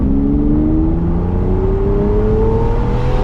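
A small engine in a three-wheeled limousine with hydraulic suspension revs steadily, its pitch climbing gradually, loud and close throughout with no talking.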